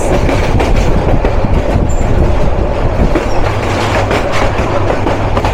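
Tista Express intercity train running on rails in Bangladesh, a loud, continuous rumble of wheels and carriages heard from on board, steady throughout.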